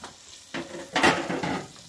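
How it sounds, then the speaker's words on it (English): Asparagus cooking in butter in a pan sizzles softly, with short bursts of louder frying and stirring as it is moved around, close by and with no voices. "We've got our asparagus cooking over here with the butter."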